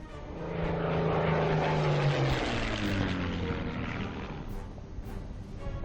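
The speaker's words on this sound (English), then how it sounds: "we can finally put our aircraft to good use" A propeller aircraft engine in Order of Battle: Blitzkrieg drones steadily and loudly, its throbbing pitch sliding slightly downward as it passes, with no talk over it.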